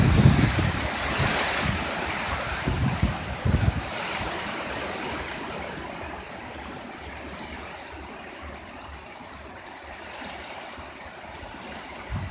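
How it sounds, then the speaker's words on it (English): Strong gusts from Tropical Storm Nicole roar outdoors as heavy, continuous wind noise with the rush of surf beneath, loudest at the start and then easing to a steady, slightly quieter blow. "There's a big gust."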